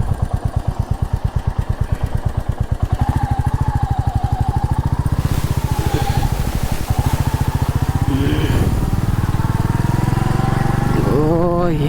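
A Royal Enfield Meteor motorcycle thumps along under way, its rapid single-cylinder beat loud and close, rising in pitch as it accelerates while wind rushes past.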